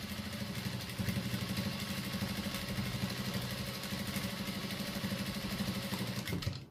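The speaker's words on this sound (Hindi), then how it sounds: "ये देखिए इसके बराबर बराबर इस तरीके से हम सिलाई लगा देंगे" A sewing machine stitches fabric for a latkan design, running with a steady, fast mechanical chatter up close and stopping near the end.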